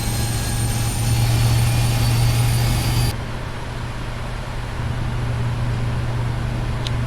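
Steady, loud roar of Boeing 777-300ER jet engines running in a Prepar3D flight simulator, a constant whine and rumble that drops slightly partway through, with no voices.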